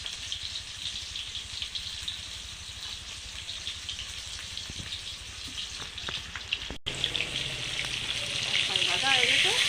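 Fish fries in hot oil in a pan in a Bengali home kitchen, crackling in a continuous close sizzle that grows louder and busier toward the end, with a brief cut partway through.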